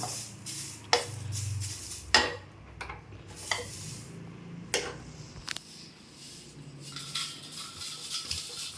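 Whole spices dry-roasting in a pan for sambar powder give off scattered crackles and sharp pops, with stirring scrapes and a few louder taps against the pan, fairly quiet and close.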